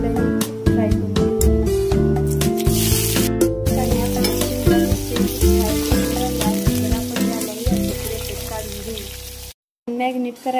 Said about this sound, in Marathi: आता आपण एका प्लेटमध्ये काढून घेऊ आणि आपण शिमला मिरचीला फ्राय करून घेऊ।